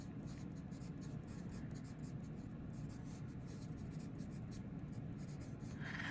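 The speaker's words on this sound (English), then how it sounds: "I'm writing out the actual words because I want to see, how do they look on paper?" Handwriting words on paper with a pen, soft scratchy strokes in short bursts and pauses, close and faint beneath a voice talking.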